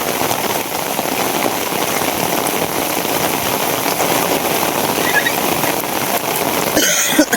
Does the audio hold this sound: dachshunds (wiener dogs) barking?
no